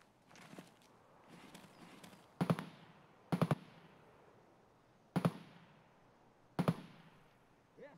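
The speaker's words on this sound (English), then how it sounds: "Oh, that's a nice sounding gun." Four sharp, loud gunshots ring out in the video game Escape from Tarkov, evenly spaced over several seconds, each trailing a short echo, with quieter rustling movement between them.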